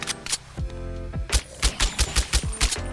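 A pistol in Fallout New Vegas VR fires a rapid series of sharp, loud shots, about a dozen in quick, slightly uneven succession, following a couple of earlier isolated blasts.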